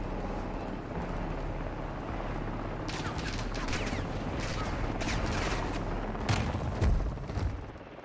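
LMG machine gun fire in Modern Warfare 2, a string of rapid shots over a constant low rumble of battle, moderately loud with a few heavier booms toward the end.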